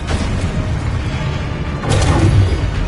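A Confringo blasting spell goes off in Hogwarts Legacy, a loud, dense low boom that swells and thickens near the end over a continuous rumbling game soundscape.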